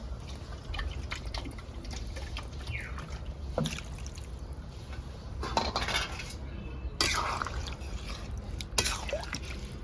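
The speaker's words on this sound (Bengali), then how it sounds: "এবার দিয়ে দেবো জল" Water is poured into a pot of cauliflower and potato while it cooks, making splashy liquid sounds and scattered drips, broken up by sharp clinks of a utensil against the pot.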